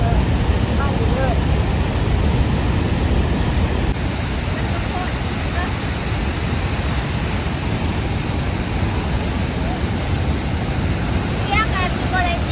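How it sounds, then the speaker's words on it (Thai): Ta Thuam waterfall, a loud, continuous broadband rush of falling water filling the scene without pause, with faint bird chirps near the end. "คือน้ำตกตาถ่วม"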